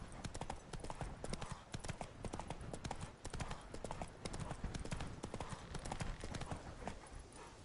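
A horse gallops in The Witcher 3 on PS5, a fast, steady drumming of hooves running throughout at low volume, with faint voices in the background.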